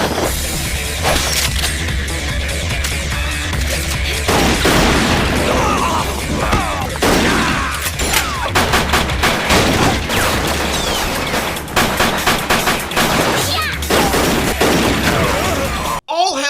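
Relentless gunfire from a young girl's twin shotgun pistols in an anime shootout, dense bursts of loud blasts and booms packed close together with battle clatter, continuing nearly without pause for the whole stretch.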